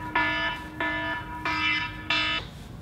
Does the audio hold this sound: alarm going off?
yes